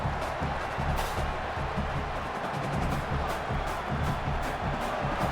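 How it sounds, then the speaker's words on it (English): Stadium crowd roaring at a College Football 27 rivalry game between the UCLA Bruins and USC Trojans, a dense, sustained wall of cheering with no break across the clip. "This crowd, full throat, splitting the eardrums"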